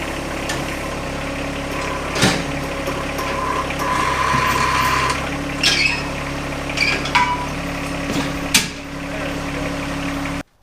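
A tractor engine with a brush hog mower attached idles and rumbles steadily nearby, with a few sharp clunks and brief mechanical bursts over the constant drone.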